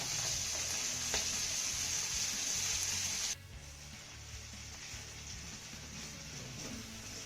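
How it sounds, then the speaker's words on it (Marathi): Finely chopped garlic and grated ginger sautéing in a pan, a soft continuous hiss of frying that drops slightly quieter partway through, with no talking. "हा लसूण ना आपण हलक्या सोनेरी रंगावरती चांगला परतून घेऊया"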